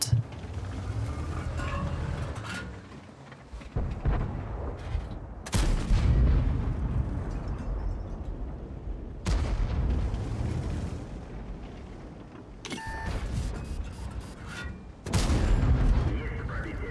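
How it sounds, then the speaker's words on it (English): Tank cannon fire in World of Tanks, from a Tier 8 premium Udarniy: several loud, isolated booming shots spaced a few seconds apart, each with a long rumbling decay, over a continuous engine and battle drone. "just gonna snipe here and do some blind shot here"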